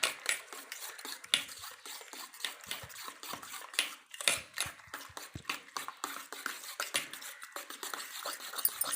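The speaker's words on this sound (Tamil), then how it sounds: "நுர அளவுக்கு நல்லா கலக்கணுங்க" Omelette mixture with tomato beaten hard in a bowl for bread omelette, a fast, irregular run of close clinks and taps from the utensil against the bowl, with no talk.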